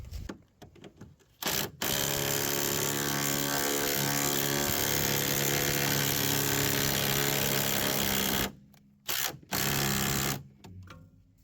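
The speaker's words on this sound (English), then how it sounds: "the wrench didn't have enough power, so I have to go manual." A power wrench whirs continuously on a rusty bolt of a SAAB 9-5 during rust repair. It runs in a long, loud, steady burst after a few short taps, stops, then gives two more brief bursts.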